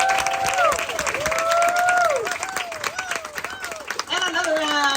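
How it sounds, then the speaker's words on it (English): Audience applause and cheering for authors at a book signing, clapping heard under excited voices that talk and whoop over it, with sliding exclamations throughout. "Please give a big round of applause for our authors of the evening."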